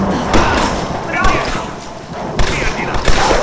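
Rapid gunfire from the Tomb Raider video game, a scattered fusillade of sharp, close shots that repeats in bursts across a busy, noisy background.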